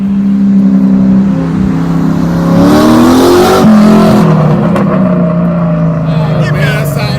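A turbocharged Ford Mustang engine revs hard in the cabin, a loud droning roar whose pitch climbs and falls through a swell midway, heard close and continuous.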